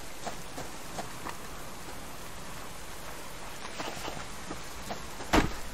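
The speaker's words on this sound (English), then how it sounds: "And the rain is back, so I guess it's just going to rain all day." Steady rainfall in the survival video game Subsistence hisses evenly with no letup, a soft constant patter, with one brief knock near the end.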